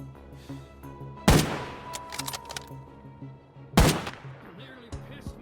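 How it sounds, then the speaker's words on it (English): Gunfire in the video game Arena Breakout near a villa, with two loud, sharp shot bursts a couple of seconds apart and smaller clicks and rattles between them. "Very quickly, I heard shots, so I made my way to the villa to see what was happening."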